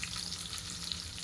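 Chopped bell pepper and onion sizzling in a pan while cooking kadai paneer, a soft, steady frying hiss with no talking.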